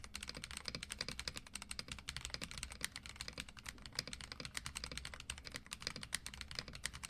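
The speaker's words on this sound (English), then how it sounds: "We're probably gonna have to come up with some weird term to call the noises that are coming out of this keyboard." Fast, steady typing on a YUNZII AL66 65 percent keyboard with a polycarbonate case and pre-lubed TTC White Flame switches, a close, dense run of crisp keystrokes with no voices.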